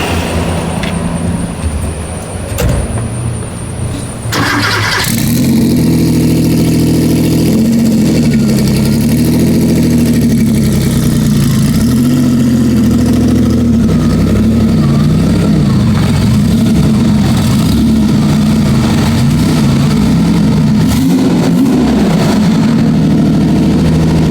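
A twin-turbo Porsche 930 engine cranks and catches, then settles into a loud, steady idle with slight rises and dips in its rumble.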